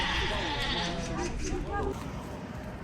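Buto black sheep bleating at a farm in China's Yi region, a few wavering calls in the middle of the clip over steady outdoor noise, with a voice also present.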